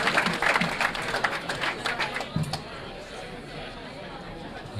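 Crowd at a pool billiards match applauding in a burst of clapping and chatter that fades after a couple of seconds into a quieter room murmur.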